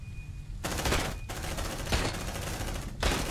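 Sustained bursts of rapid automatic gunfire from squad weapons in the sci-fi video game Aliens: Dark Descent, loud and dense with brief gaps between volleys.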